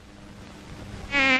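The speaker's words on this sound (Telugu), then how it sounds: "ఈగలు" Insect buzzing, likely flies, quiet and steady at first, then swelling sharply into a loud, close, high-pitched drone near the end.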